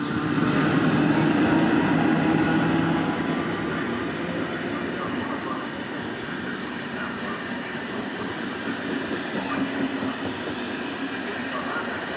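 An Intercity train departing a station rumbles loudly and steadily with a broad rolling roar that eases slightly as it goes, with no voices heard.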